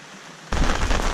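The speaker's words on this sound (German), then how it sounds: "es regnet gerade ein bisschen" A sudden loud burst of dense rain noise starts midway, a steady broadband hiss of heavy rainfall close by during night fishing on the Elbe, with no voices.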